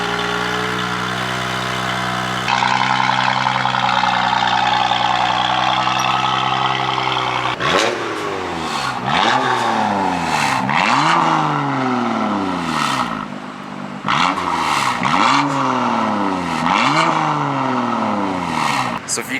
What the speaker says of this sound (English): those equal length mid pipes are supposed to get rid of the raspy sound